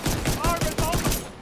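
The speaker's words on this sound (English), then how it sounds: "Pistol." Pistol gunfire in The Division 2, a quick run of about seven sharp shots in steady rhythm, loud and close, amid game noise.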